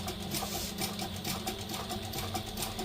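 Close, rapid, even stitching of a sewing machine running through clear jelly vinyl at a steady pace, with no pauses or back stitching.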